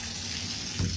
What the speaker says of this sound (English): I actually like to fill up my watering can in the bathtub just because it's faster than using the kitchen sink